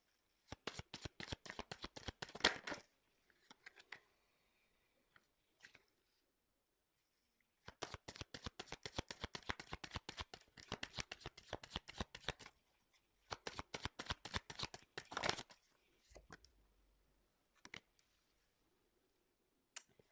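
A deck of cards is shuffled for a card reading, three bursts of rapid riffling clicks separated by quiet pauses, close and crisp with no talking.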